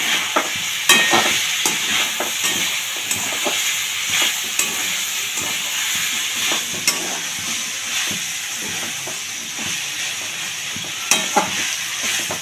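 Two bay leaves sizzle in hot oil in a pan while being stirred for a Bengali chana dal with vegetables: a steady, close frying hiss broken by scraping stir clicks, with no talk.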